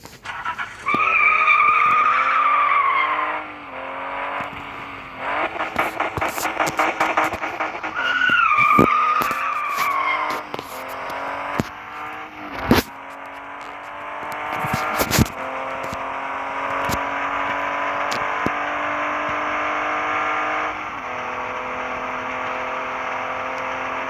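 A BMW in a racing video game drives with a steady engine drone, broken by repeated tire squeals, skids and sharp impact clicks that fade into a continuous revving hum.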